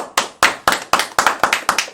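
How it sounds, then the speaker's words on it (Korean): Clapping at a Korean talk show, about eight distinct, evenly spaced claps, sharp and close, with little else audible. "아우 박수"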